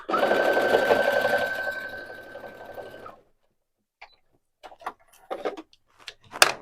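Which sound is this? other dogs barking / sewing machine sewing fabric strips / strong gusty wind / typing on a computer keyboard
sewing machine sewing fabric strips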